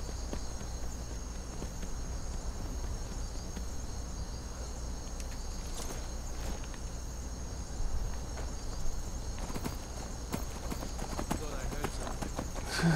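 Horse hooves in Skyrim clip-clop at a steady walking pace over a constant bed of chirping crickets and faint hum.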